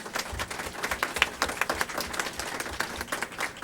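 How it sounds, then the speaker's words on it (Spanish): An audience at a UNAM academic panel on sustainable digital archives and open government gives fairly quiet, dense applause, many hands clapping at once in a steady, slightly uneven patter. "Un aplauso, por favor."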